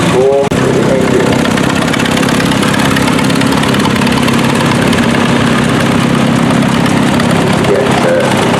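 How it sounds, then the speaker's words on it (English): Vintage tractors, including an early Massey Harris, parading past at a Bedfordshire steam rally, giving a steady, loud mid-to-low engine chug and idle that runs throughout, with crowd and ambient noise underneath. "Early Massy Harris going past me here"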